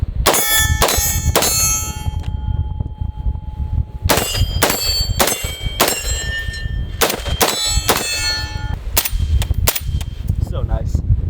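An FN SCAR 5.56 rifle fires in a rapid series of close, loud shots, each followed by a ringing clang from steel targets, in bursts separated by short pauses.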